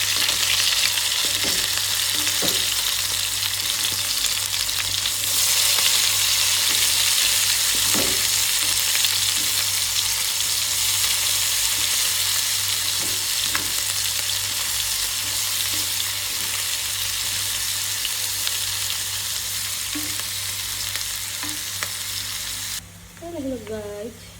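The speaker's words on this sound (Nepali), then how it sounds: "मैले चाहिँ यसरी प्याज राखेर मासु चाहिँ यसै माथि राखिदिन्छु" Chicken meat sizzles loudly on a bed of onions in a pan, a continuous close-up frying hiss punctuated by occasional scrapes and clicks from stirring, running unbroken throughout.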